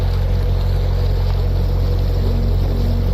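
A military boat loaded with missiles, apparently six-engined, passes on the River Ouse near Brandon, giving a steady, loud low engine drone and water wash that holds unchanged throughout.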